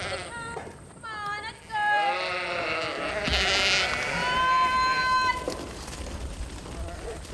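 A flock of sheep on a sheep dairy bleats at milking time, with overlapping calls rising and falling from several animals at once, mid-distance and fairly loud, over a busy background of shuffling movement.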